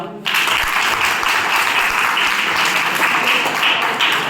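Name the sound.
audience applauding the doctor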